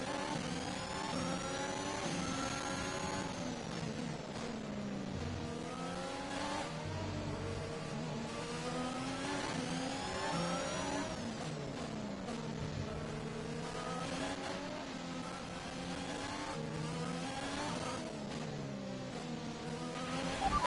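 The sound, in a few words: Formula 1 car engine racing in F1 2021 video game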